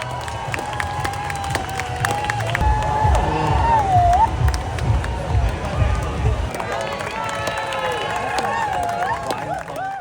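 A parade crowd in Vancouver, heard as a loud, lively mix of cheering, whoops and applause with drums and other parade noise in the background, while people talk close by.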